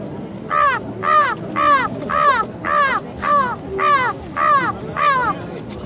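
A girl imitates a crow with her voice, repeating a harsh caw about nine times in a steady, evenly spaced rhythm, loud and close.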